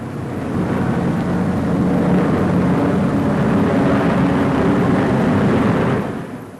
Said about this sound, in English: These bombers are another highly successful weapon in the hands of the Allies